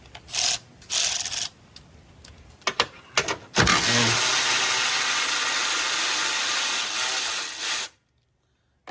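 A socket ratchet clicks in short bursts on screws of a Toyota LandCruiser 300 under the bonnet, then a longer steady whirring run of about four seconds, close up with no talk.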